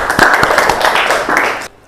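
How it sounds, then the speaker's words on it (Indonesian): A school class claps together in applause, a short burst of many hands close by that stops abruptly. "Tepuk tangan dulu."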